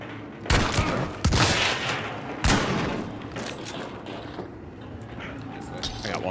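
Video game gunfire fired through a wall comes as a few sharp, loud bursts in the first half, each followed by a decaying rumble, then quieter background noise.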